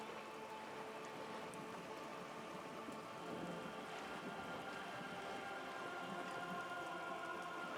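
Steady rainfall in the Disco Elysium video game, an even wash of drops that swells slightly partway through, with low ambient hum beneath and no talking.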